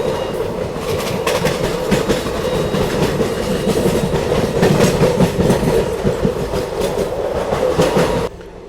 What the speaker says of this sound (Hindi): बाकी फाइनली अपना अराइवल हो रहा है आगरा छावनी रेलवे स्टेशन पे।